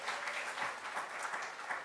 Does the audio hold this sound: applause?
yes